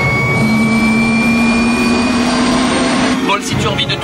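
A helicopter turbine whines steadily at close range as it spins up for takeoff in strong wind, a sustained tone slowly rising in pitch over a heavy roar, and then the sound shifts abruptly near the end.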